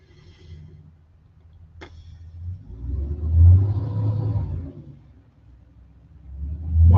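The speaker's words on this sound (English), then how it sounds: "Why does it sound like there's like a garbage truck or something? A semi going down the street at 3:22 a.m." A semi or garbage truck rolls down a street in the middle of the night, its low engine rumble swelling as it passes nearby, fading, then rising again, with no talking.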